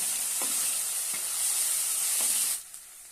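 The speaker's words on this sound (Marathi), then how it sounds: "एक टोमॅटो बारीक कट केलेला आहे तो घालूया छानपैकी परतून घेऊया" Finely chopped tomato sautés in a hot oiled pan for a gram and potato curry. A loud, steady sizzle runs throughout with a few soft stirring scrapes, then fades sharply near the end.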